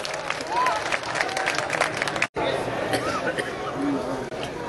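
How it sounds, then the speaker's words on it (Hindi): Audience applause at a 2015 mushaira in Sambhal welcomes poet Azeem Sarwar to the microphone, mixed with crowd chatter and murmuring. A brief dropout cuts in midway before the clapping resumes. "आइए जोड़ा तालियों से इस्तकबाल कीजिए माइक पर"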